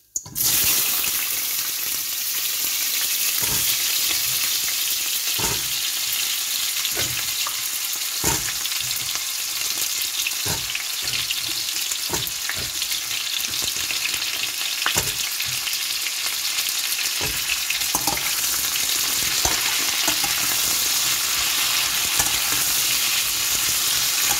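Zucchini frying in hot oil in a kadai, a dense continuous sizzle close by, punctuated by regular clicks and scrapes of stirring throughout.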